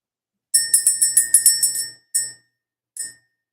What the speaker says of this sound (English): we're going to go ahead and ring the bell